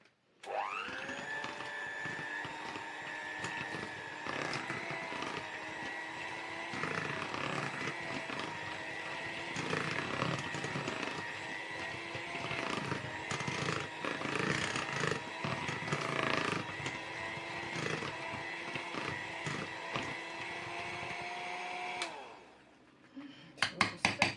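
An electric hand mixer whirs steadily, beating a cottage cheese casserole batter made with eggs. Its high motor whine holds close and loud for about twenty-two seconds, then stops abruptly.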